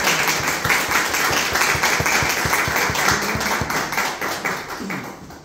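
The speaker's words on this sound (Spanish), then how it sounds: "un aplauso para él" Audience applause for an author being introduced at a book presentation in a provincial library, a steady burst of many hands clapping close by for several seconds, easing off toward the end.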